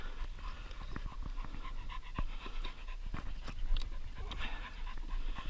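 Dogs pant heavily after running during a hunt in the field, with rapid, rhythmic breathing close to the microphone, steady throughout and mixed with scattered rustles and faint ticks.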